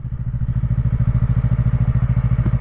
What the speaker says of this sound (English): I'm just walking the bike, and I'm not going really above 5 miles an hour when I do this